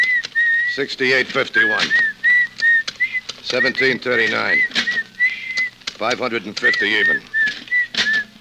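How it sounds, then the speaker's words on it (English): Creepy, wavering whistling of a tune, with sustained pitched notes running through the clip, close and fairly loud, broken up by a man's speech in between. "stop that creepy whistling, will you?"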